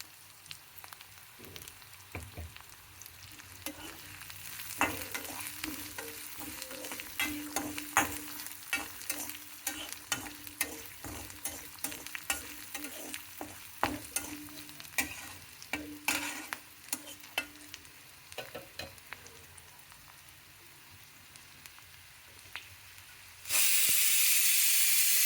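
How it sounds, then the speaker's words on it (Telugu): Onions sizzle steadily in a hot pan with salt, a spatula scraping and stirring through the frying for about twenty seconds with no talk, ending in a sudden loud burst of hiss. "తగినంత ఉప్పు కూడా వేసి తొందరగా ఉల్లిపాయలు వేగుతాయండి."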